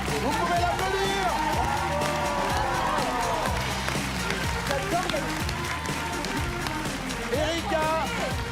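A studio audience at a French television show applauds and cheers in a standing ovation, with continuous clapping and crowd noise while a host talks loudly over it throughout.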